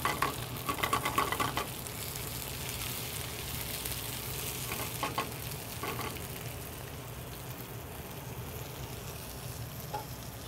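Ingredients sauté in a hot pan, giving a steady, close sizzle and crackle with occasional scraping bursts from stirring, heard alone without talk.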